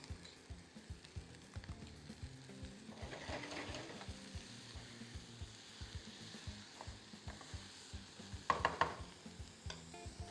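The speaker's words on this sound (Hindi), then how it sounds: "अभी जाएगा चॉप किया हुआ टमाटर along with some chopped crates." Chopped tomatoes and carrots frying in butter in a pan for tomato soup, a soft continuous sizzle with scattered stirring clicks and a brief louder burst near the end.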